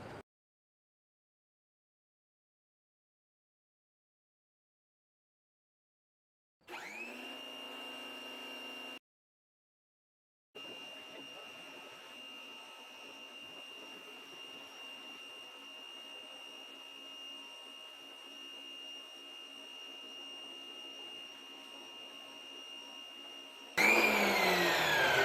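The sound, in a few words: pressure washer running on deck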